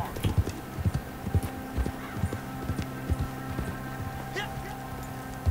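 Horse hooves clip-clop on the ground in the video game Red Dead Redemption 2, a steady, fairly close rhythm of repeated thuds from a walking or trotting horse over a faint background hum.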